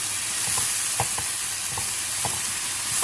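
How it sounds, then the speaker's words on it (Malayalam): Lamb Bolognese sauce sizzles steadily in a pan while a spoon stirs it, giving a continuous hiss with soft scraping knocks about twice a second, close up and without any voices. "നന്നായിട്ടൊന്ന് ഇളക്കി കൊടുക്കാം."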